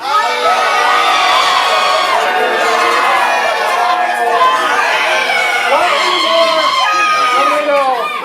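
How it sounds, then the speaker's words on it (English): An audience at a ComedySportz improv comedy show yells, whoops and cheers for a team, a loud, continuous wall of crowd noise with children's shouts mixed in, sustained throughout. "yell and cheer for your team"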